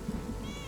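A cat's meow from Kingdom Two Crowns: Norse Lands, linked to a cat-drawn chariot, a single short, soft mew with a rising, tonal pitch over a low background hum.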